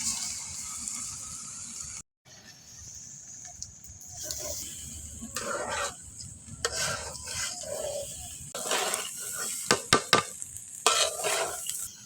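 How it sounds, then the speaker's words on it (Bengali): Rice is fried and stirred with chicken meat in a pot for khichuri, a steady sizzle broken by scraping ladle strokes and bursts of rasping stirring, close by, with a brief gap near the start. "চাউলটা ভাজা আমার হয়ে গেছে"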